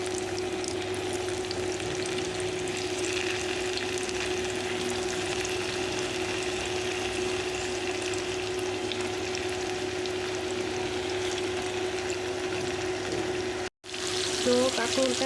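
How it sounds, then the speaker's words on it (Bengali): Spiny gourd (kakrol) pieces fry in hot oil in a pan, giving a steady, even sizzle close by with a brief cut near the end. "তো এখন আমি এটার মধ্যে তেল ঢেলে দিব। তো আমি দিয়ে দিচ্ছি কাঁকরোলগুলো। তেলটা গরম হয়ে আসছে,"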